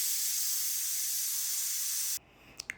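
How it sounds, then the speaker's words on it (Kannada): A pressure cooker full of vegetable pulav lets out a loud, steady hiss of escaping steam for about two seconds, then cuts off abruptly, leaving a quiet kitchen with a couple of faint clicks. "ಕುಕ್ಕರ್ ಲಿಡ್ ಕ್ಲೋಸ್ ಮಾಡಿ 2 ಸಲ ಕುಗ್ಸಿದ್ರೆ ಸಾಕು"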